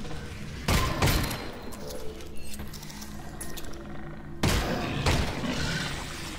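Gunfire at barnacles in Half-Life: Alyx: two loud, sharp bursts about four seconds apart, each ringing out briefly over a steady low game ambience.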